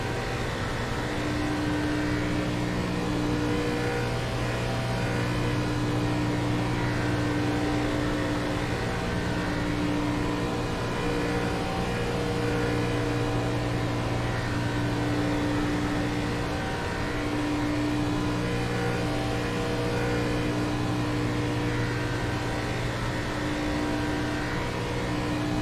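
A race car engine drones at a steady high pitch through a lap of Talladega in iRacing, a constant loud hum with no break and no talk over it.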